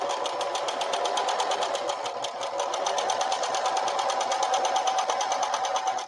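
A sewing machine stitches the side seam of a tote bag in a steady, close run of rapid, evenly spaced needle clicks over a motor hum, with no talking.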